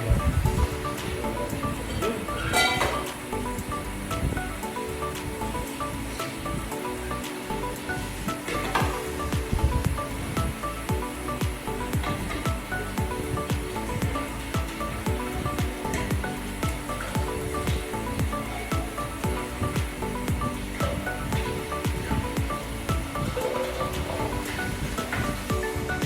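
Shower water runs steadily in a truck stop shower room, a continuous hissing spray at close range with small splashes and clatters, no talk over it.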